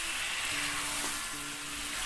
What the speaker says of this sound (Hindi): तो इन सबको अब हम हल्का सा भून लेंगे।